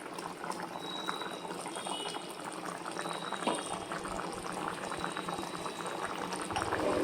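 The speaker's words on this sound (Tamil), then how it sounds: "பாருங்கள், கொதிச்சிச்சு." Valaka gravy boils in a pot with a steady bubbling, popping simmer that carries on without a break and stays fairly close and even in level.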